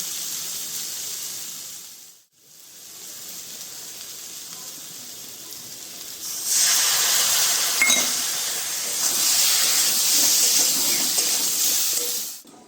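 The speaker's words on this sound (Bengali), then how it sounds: "তরকারি ফুটে উঠেছে" Taro curry in a pot, boiling with a steady, close bubbling hiss that swells louder partway through after a brief dip, with no talking.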